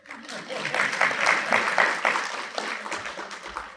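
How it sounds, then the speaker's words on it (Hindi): An audience applauds at a Gita seminar in Kurukshetra, giving moderately loud, steady clapping from a seated crowd that swells and eases over a few seconds. "खुद के लिए भी आप जो है तालियां बजा सकते हो कि आपने अच्छा निर्णय लिया है।"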